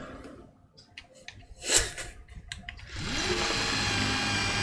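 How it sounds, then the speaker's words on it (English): A drill in the video game Astroneer starts up after scattered clicks and a brief louder burst, then runs as a steady, loud grinding whir through the rest of the clip. "Sorry, the drill was very loud."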